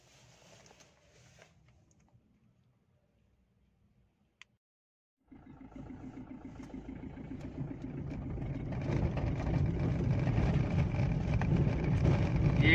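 A Maruti Ritz car is heard: faint clicks and quiet handling noises, then a brief silence before the engine starts and settles into a steady hum, growing louder and rougher as the car pulls away and drives.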